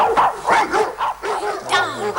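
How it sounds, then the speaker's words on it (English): Dogs barking in short, repeated yips and bow-wows, several quick barks in a row at moderate distance, with a faint whimper near the end and no other sounds. "The barking of the dogs"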